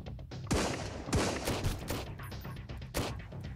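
Gunfire in the video game Sunkenland during an assault on Dreadville, with several loud sharp shots in close succession and reverberant tails, no talking.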